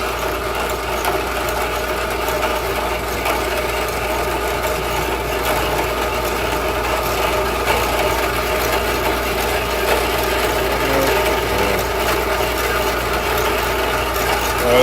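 A small Dremel rotary tool carves steadily at the forge bench, its motor whirring in a continuous, even buzz with a gritty rasp of the bit against the material, close and unbroken for the whole stretch.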